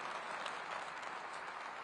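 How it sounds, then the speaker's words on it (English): An audience applauds at Boeing's delivery ceremony for its final 747 jet, a steady, even patter of many hands clapping for the whole moment, moderately loud with no voices on top. "we'd like to all applaud and say thank you for starting this program"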